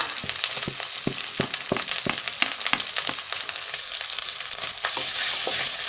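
Onion sautéing in a pan with garlic, ginger and chili paste for an egg and cauliflower-potato curry, a steady close sizzle broken by regular sharp scraping strokes of a spatula, growing louder toward the end.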